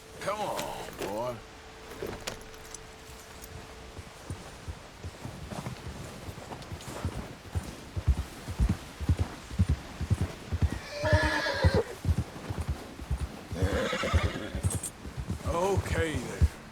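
A horse in the Red Dead Redemption 2 video game whinnies near the start, then its hooves clip-clop in a steady walking rhythm, close and clear, while someone talks over the hoofbeats and game sounds.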